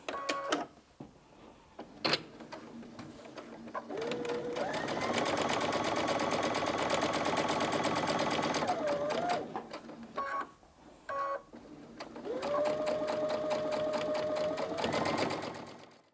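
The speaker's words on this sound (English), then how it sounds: "we're now just going to sew all the way down there" A sewing machine sews down a long seam of a soft reversible rag quilt, with short bursts at first, then two sustained loud runs of whirring stitching separated by a brief pause.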